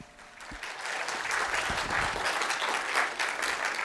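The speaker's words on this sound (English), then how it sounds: "Please give a round of applause for our keynote speaker, Cristina Mittermeier." A room full of people clapping steadily for a keynote speaker, a dense sustained wash of applause.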